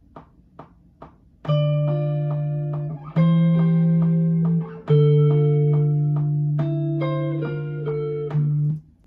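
An electric guitar plays sustained, ringing chords and notes with a slightly distorted tone, coming in after a few quiet plucks and holding steady and loud.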